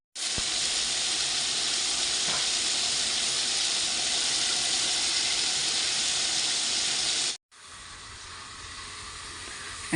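Chicken frying in a pan: a loud, steady, close sizzle of hissing oil runs without a break, cuts out abruptly near the end, then resumes as a quieter hiss.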